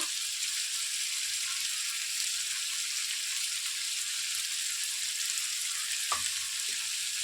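Garlic cloves and curry leaves frying in hot oil give a steady, close sizzle that holds without a break, with a brief stir partway through.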